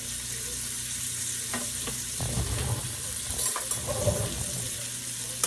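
New York steak searing in a pan as leftover juice is poured in, giving a steady close sizzle and frying hiss with a few soft clinks and stirring sounds throughout.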